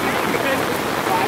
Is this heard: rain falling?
yes